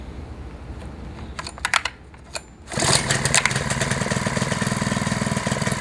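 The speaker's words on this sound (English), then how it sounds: "I'm going to drill a hole using the carbide bit first" A Trak-Star RB2SPD two-speed rail drill running at 350 RPM with a carbide bit drills into rail, starting after a few clicks with a loud, steady grinding drone that continues to the end.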